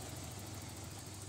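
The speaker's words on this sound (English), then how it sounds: "The engine is just running like a sewing machine right now. Nice and quiet." A 1989 Ford Ranger GT engine idles smoothly and steadily, a low even hum with a faint regular pulse and no tapping, heard close up.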